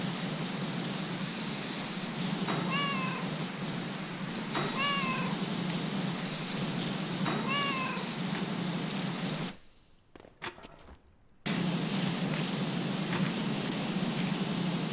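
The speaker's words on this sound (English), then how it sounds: "Why are you shooting poor cats with water?" Cats in PowerWash Simulator 2 meow in short, repeated calls about every three seconds under a steady hiss of a pressure-washer water spray, with the spray briefly cutting out.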